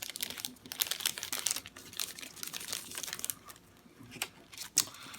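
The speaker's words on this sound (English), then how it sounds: "let me see if I can get rid of all of the plastic" Plastic packaging being stripped off a Hobonichi A6 Techo planner, close crinkling and crackling in irregular bursts with brief pauses, fairly quiet and with no talk.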